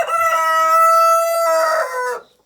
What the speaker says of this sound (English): Sorry about the rooster being so noisy.